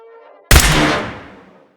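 A single sharp laser pistol shot from the Fallout Wasteland Warfare tabletop game, with a sudden loud burst after a quiet hum that rings out and decays over about a second.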